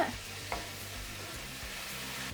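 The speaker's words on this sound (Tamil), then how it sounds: "கெச்சப் சேர்த்துட்டு நல்லா கலந்து விட்டுக்கோங்க" A pan sizzles steadily while a spoon scrapes and stirs through a thick masala mixed with ketchup, with a couple of sharper knocks near the start.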